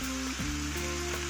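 Two medium onions salted and browning in a pan, a steady close sizzle and crackle of frying with a low tonal hum underneath, brief and continuous with no voices.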